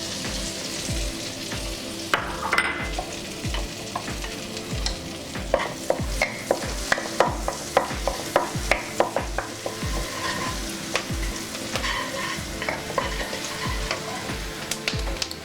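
Ginger and garlic fry in butter in a kadai for jeera rice, a steady close sizzle broken by repeated sharp scrapes and taps of a spatula stirring.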